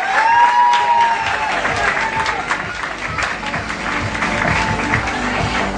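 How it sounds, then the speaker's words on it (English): An audience at the 2011 Mrs Florida pageant applauds as two husbands come up on stage, steady clapping and some cheering filling the room, with a faint voice and tone underneath. "a round of applause for these two gentlemen"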